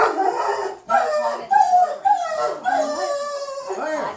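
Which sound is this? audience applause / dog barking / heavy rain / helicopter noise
dog barking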